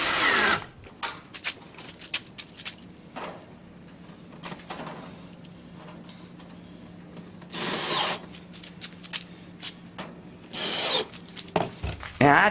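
A power drill drives screws into a sheet-metal reflector in several short whirring bursts between pauses, with handling noise and some speech in the background.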